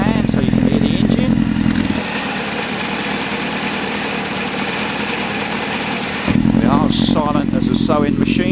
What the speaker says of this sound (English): I'm going to cover up the can so you can hear the engine.